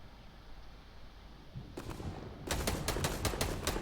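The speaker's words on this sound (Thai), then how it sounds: "มันยิงข้างล่างอยู่" Gunfire in Fortnite comes after a low ambient rumble: first a few isolated shots, then a rapid burst of sharp cracks in quick succession, fairly loud and close.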